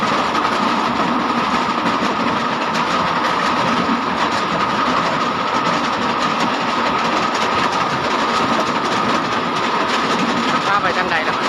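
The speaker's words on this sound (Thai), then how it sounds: "ขี่รถไฟเด้อพี่น้องขี่รถไฟ" Continuous loud clatter and rumble from inside a moving train, the rhythmic rattle of wheels on track running the whole time.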